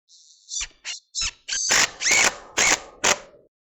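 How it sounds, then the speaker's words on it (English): A power drill driving a screw through a board into a wooden post, several short close whirring bursts of rising intensity separated by brief pauses. "And I'm just going to screw it on,"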